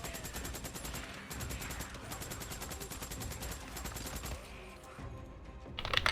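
Rapid RPD machine gun fire in a video game, a dense stream of shots in bursts with short gaps, loud and close over a busy battle mix.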